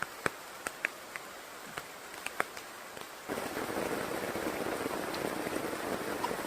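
Steady rain pours down outdoors at a traditional gold-mining site, broadening into a dense hiss after a few scattered heavy drops and sharp taps at the start.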